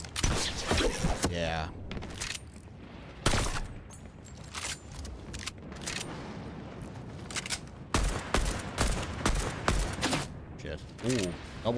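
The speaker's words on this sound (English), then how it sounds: "Where am I getting sniped at from?" Sniper gunfire in a Fortnite match: loud, sharp shots crack out at irregular intervals, some bunched into quick bursts, with quieter gaps of game ambience between them.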